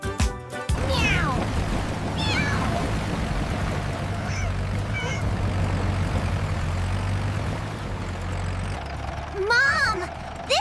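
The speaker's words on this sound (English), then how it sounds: "Meow." A high, cartoonish cat meow rings out near the end over a busy bed of steady low rumble and scattered chirpy sounds.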